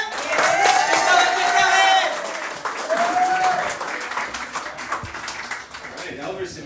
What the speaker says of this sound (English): Let's go, clap it up.